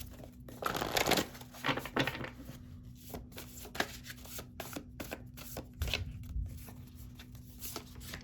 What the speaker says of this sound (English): Now I really got to shuffle these for sure.